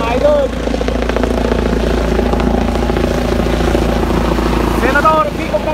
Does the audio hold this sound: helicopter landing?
yes